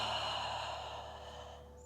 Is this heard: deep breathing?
yes